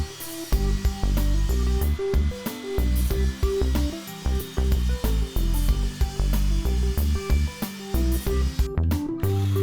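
A table saw rips 3/4-inch scrap wood into 3.5-inch pieces for a workstation carcass, a continuous loud whine broken by rapid cutting bursts and knocks as boards feed through, close up with no talking.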